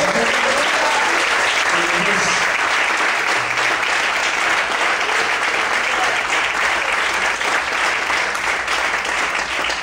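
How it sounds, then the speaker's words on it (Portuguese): A church congregation claps hard and continuously for nearly ten seconds, a thick steady roar of applause with voices faintly mixed in. "Aplauda Jesus bem forte nessa noite."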